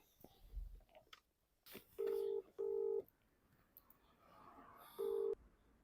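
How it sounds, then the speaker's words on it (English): Three steady, loud touch-tone beeps ring out from a phone dialing a customer about a repaired VW Golf 1.4 petrol car, separated by short pauses over a faint background hum. "Then I'm going to call to the customer"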